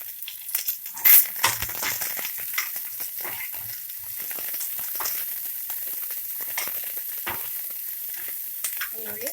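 Onions and green chillies frying in a pan for a country chicken broth, a steady close sizzle with crackles and a few stirring scrapes, heard alone.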